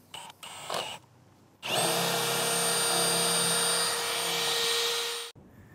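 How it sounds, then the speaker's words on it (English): A few short taps and scrapes, then a power drill whines steadily for several seconds as it bores through roof wood for a solar panel junction box, close and loud, before stopping abruptly. "we're gonna drill right through the wood."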